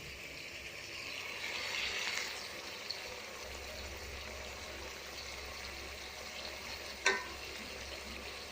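Chicken simmering in a pot with coriander and mint leaves gives a faint, steady bubbling hiss from close by, with one brief clink near the end.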